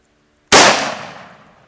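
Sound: gunshots from a Tavor rifle

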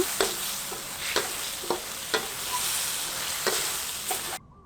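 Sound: stir-frying minced pork with oyster sauce and fish sauce

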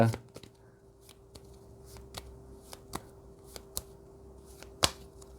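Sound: shuffling and drawing tarot cards

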